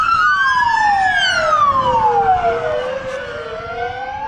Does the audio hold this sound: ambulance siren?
yes